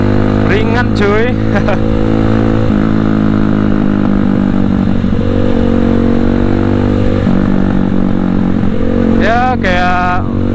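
A Viar Cross-X 200 SE trail motorcycle rides along with a steady engine drone and short revving surges near the start and end, while someone talks over it.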